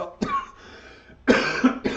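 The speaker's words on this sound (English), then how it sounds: "It's making me cough." A person coughs from pollen hay fever: two harsh, close coughing bursts, the second louder and rougher, with a short throat-clearing sound between them.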